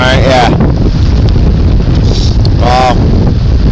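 Strong, cold wind blasts across the microphone in a loud, constant roar, with a couple of brief voice sounds near the start and end.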